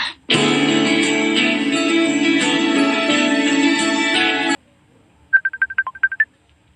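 A phone rings for an incoming call with a steady electronic ringtone that lasts about four seconds and then stops, followed by a quick run of short beeps, loud and close with no talking.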